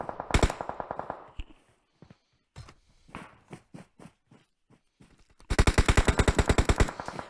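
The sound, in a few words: gunfire from the video game PUBG Mobile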